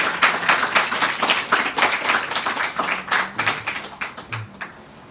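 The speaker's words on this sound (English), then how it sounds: "One big clapping for Maharaj." A small gathering at a Hare Krishna morning program in Seattle claps for Maharaj, with rhythmic close claps that fade out over about five seconds.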